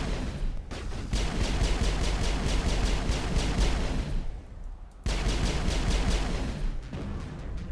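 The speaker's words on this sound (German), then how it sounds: "Schießt er wieder?" Dense, rapid gunfire from the video game Mass Effect, bursts of many shots in quick succession with a brief pause midway, loud and continuous.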